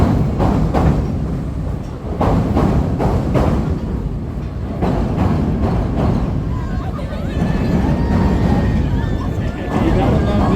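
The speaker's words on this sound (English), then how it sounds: "Train rumbles overhead." An elevated train in Chicago rumbling overhead as a boat passes beneath, a heavy continuous rumble with rhythmic thumps and screeching wheel squeal toward the end, under people talking nearby.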